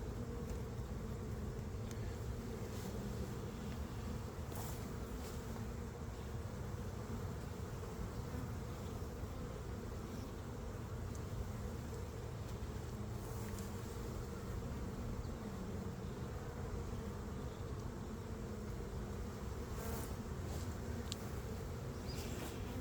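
Honey bees buzz steadily at an apiary on a hot, humid day, a dense, continuous hum close by with no pauses and a few louder passes of individual bees.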